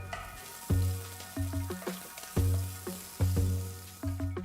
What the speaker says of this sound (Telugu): ఇందులో ఒక టీ స్పూన్ జీలకర్ర చిన్నగా తరిగిన అల్లం ముక్క తరిగిన రెండు పచ్చిమిరపకాయలు వేసి వేయించాలి